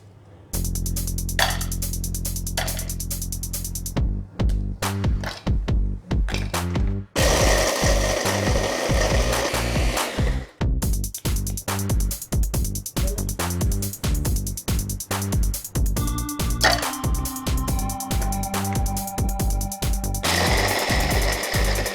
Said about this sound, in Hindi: हम इन्हें ग्राइंडर में डाल देंगे और इनका फाइन पाउडर बना लेंगे।